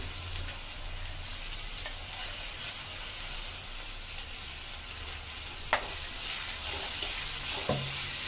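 Chopped onions and green chillies fry in oil with a steady, fairly faint sizzle, broken by an occasional stir or clink.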